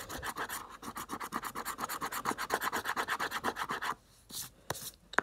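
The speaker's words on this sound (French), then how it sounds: "Donc on va gratter les lettres." A coin scratches rhythmically across the letters of an Illiko scratch-off lottery ticket in a rapid rasping stroke pattern, close and continuous for four seconds, then a pause and a few final scrapes.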